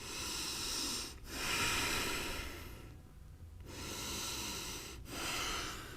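Slow, steady breathing held during a yoga pose: long broadband breaths with brief pauses between them, close to the microphone, with no talking.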